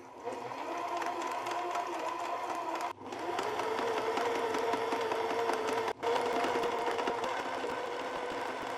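A sewing machine runs a zigzag stitch over dental floss held under a gathering foot, a steady close mechanical whirring hum in three long bursts separated by brief stops, with no talking.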